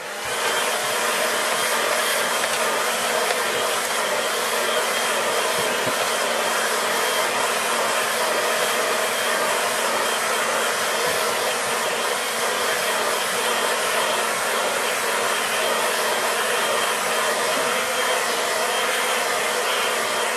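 A hair dryer drying a watercolour landscape painting blows with a steady, loud, close whooshing whine that holds unbroken throughout, and a brief voice speaks over it.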